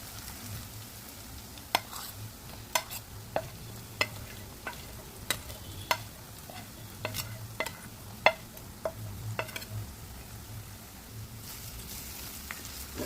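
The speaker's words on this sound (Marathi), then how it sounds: "मसाले परतून घेऊया। मसाला घातल्यावर गॅस कमी ठेवायचा, नाहीतर मसाले करपू शकतात।" Spices sautéing with mushrooms in a pan on low heat make a quiet, constant sizzle, broken by sharp, irregular clicks and taps from the spoon stirring against the pan. No one speaks.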